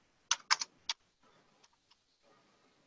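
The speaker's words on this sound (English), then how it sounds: "let's step over to my PC, and I'll type in that IP address." Keys on a PC keyboard are tapped to enter an IP address into a VNC viewer: a quick cluster of four loud, close clicks, followed by several fainter scattered taps and a soft rustle, with no voices.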